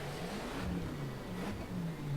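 A Ford F-150 SVT Raptor pickup's big engine in the racing game The Crew, a low droning hum that rises and falls slightly, heard fairly faint and steady with no voices.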